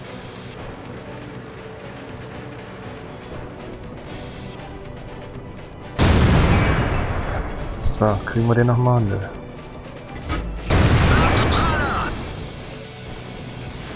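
Tank cannon shots and impacts in World of Tanks gameplay while driving a Marder 2, with loud bursts, a crash and rumble in the middle of the stretch as someone talks over the game.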